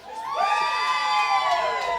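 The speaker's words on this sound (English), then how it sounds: "It sounds like you got a crowd following here tonight." Cheering and whooping crowd at a live Cajun band show, a steady wall of voices with rising shouts and whistles throughout.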